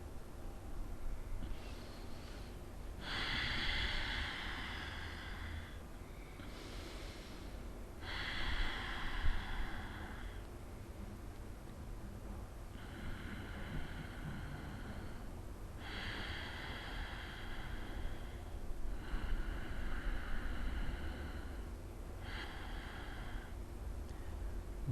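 Vyutkrama Bhastrika, a yogic breathing exercise, heard as a run of forceful rhythmic nasal snorts and breaths in short repeated bursts with brief pauses between rounds, close and steady with no talk.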